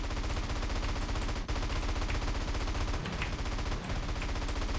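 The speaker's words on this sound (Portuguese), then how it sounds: "Toma aí meu tiro, rapaz. Minha minigun." Minigun fire in the video game GTA San Andreas, a dense, continuous rattle of rapid shots that runs loud and almost without pause throughout, with a couple of brief dips.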